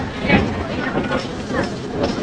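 A slow toy train at Kailasagiri hilltop in Visakhapatnam rumbles along with a rhythmic clickety-clack close by, while people talk over the ride.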